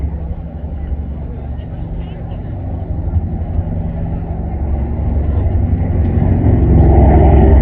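A deep, droning B-29 bomber engine roar grows steadily louder as it approaches during an airshow, with a voice talking faintly over it.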